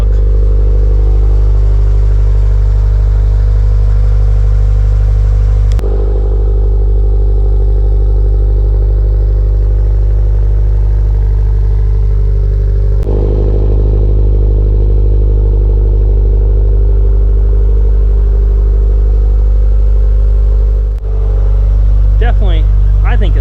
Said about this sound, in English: So let's go ahead, fire this thing up, see what it sounds like with that Q300.